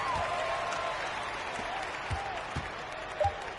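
Home crowd at an NBA basketball game cheering and applauding, a broad steady roar filling the arena for several seconds, with a commentator's voice partly audible beneath it.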